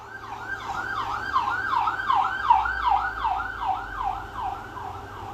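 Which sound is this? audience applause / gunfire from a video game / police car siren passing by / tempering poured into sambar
police car siren passing by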